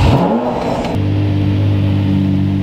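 A Lamborghini Murcielago engine revs up loudly close by, then drops into a steady, deep idle drone.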